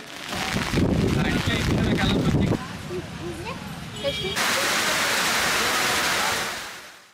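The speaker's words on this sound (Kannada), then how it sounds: "ಮಳೆ ಜೋರಾದ ತಕ್ಷಣ ಓಡಿ ಹೋಗಿ ಅಂಗಡಿ ಮುಗ್ಗಟ್ಟುಗಳ ಛಾವಣಿಯ ಅಡಿಯಲ್ಲಿ ಆಶ್ರಯ ಪಡೆದುಕೊಳ್ಳುತ್ತಾರೆ" Heavy rain pours down on an open-air village market, a loud, steady roar of water that fills the whole clip, with a voice talking over it.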